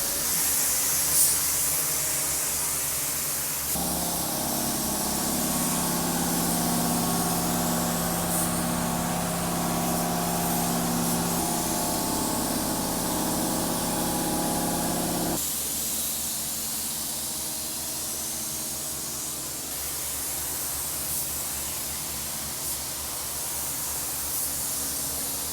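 Spray gun laying down wet sealer on a car body, a steady broad hiss that runs continuously, strengthening in the middle stretch before easing back, close and alone without voices.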